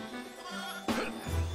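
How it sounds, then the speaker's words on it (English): In the Toy Story 2 video game, a sheep collectible gives one short bleat over a steady game soundscape of music and hum. "And yes, that is a sheep up here."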